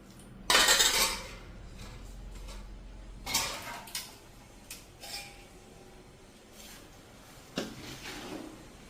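A spoon mixes oil into chana methi pickle made of chickpeas and fenugreek, giving a few sharp clinks and scrapes close by, separated by quiet pauses, with no talking.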